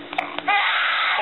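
A baby lets out a short, high wailing cry that starts after a couple of brief sounds and carries to the end.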